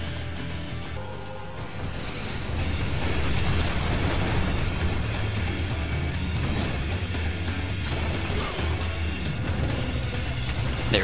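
Titan's Mountain Buster attack in Final Fantasy XIV, a heavy rumbling explosive blast amid continuous battle effects, dense and loud with crashing bursts layered throughout.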